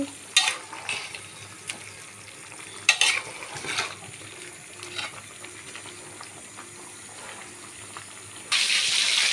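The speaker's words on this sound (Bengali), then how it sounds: "এদিকে আমি মাংসটা ভাজা দিয়ে নিচ্ছি" Goat meat frying in a pan, with occasional stirring scrapes and a soft sizzle. Near the end a louder hiss cuts in, like running tap water.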